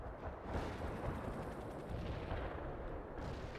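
Artillery strike called in on a farmland battlefield in World in Conflict, a steady, heavy rumble of shellfire rolling on without pause.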